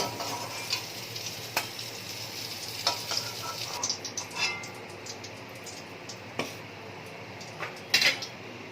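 Fried pointed gourd (potol) pieces are lifted from a frying pan into a dish. Oil sizzles steadily while a utensil scrapes and several sharp clinks of metal on cookware ring out.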